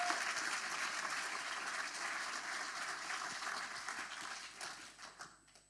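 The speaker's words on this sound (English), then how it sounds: "Big applause for Overvolt." Audience applause during a livestreamed tech news event, a continuous wash of clapping that holds steady and then gradually tapers off toward the end.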